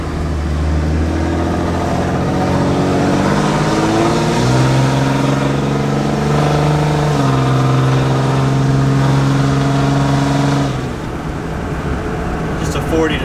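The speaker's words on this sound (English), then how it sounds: "You can see how it holds the power and shifts through the gears pretty effortlessly." A 5.9 Cummins pickup truck with a fully built transmission accelerates hard from inside the cab, the engine note climbing and dropping as it shifts through several gears before easing off.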